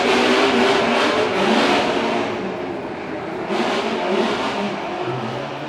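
A Mazda race car engine revs hard at a Fuji Speedway fan festival ahead of a drift demonstration, its loud, sustained roar rising and falling across the clip with no voices.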